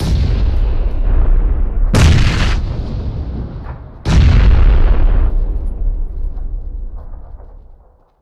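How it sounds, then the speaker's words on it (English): Grenade explosions in a video game: loud rumbling blast noise that gives way to two heavy booms a couple of seconds apart, each decaying into a long rolling tail. "Three frags out."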